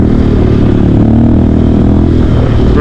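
A Honda Grom motorcycle engine runs hard through a wheelie, a loud, close, continuous drone with rattly clatter and no speech.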